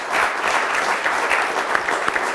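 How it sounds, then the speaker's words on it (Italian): Audience applause for a local Pro Loco team captain at an Italian quiz-show event, a dense, steady clatter of many hands clapping, sustained evenly throughout with no talk over it. "Fate un applauso anche a Federico."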